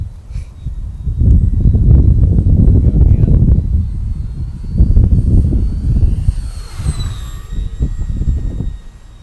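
A Maiden Arrows RC Bearcat 1100mm model airplane flies at about quarter throttle in strong wind, its motor drone rising and fading as it passes, mixed with heavy rumbling wind buffeting and a higher whine near the end.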